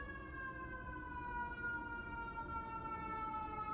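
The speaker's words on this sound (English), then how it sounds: "holy ambulance." An ambulance siren wails continuously as it passes, its steady tone sliding slowly lower, fairly faint and at a moderate distance.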